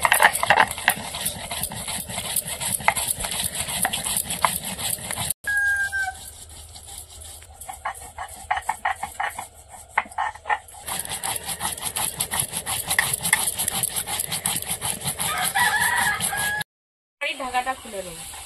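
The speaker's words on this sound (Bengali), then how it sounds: "এবার দুটো তরকারির জন্য আমি জিরেটা বেটে নেব।" Cumin being ground on a traditional grinding stone in a village kitchen, a steady rhythmic scraping rub of stone on stone repeated in quick strokes, close and fairly loud, with a short pause partway through.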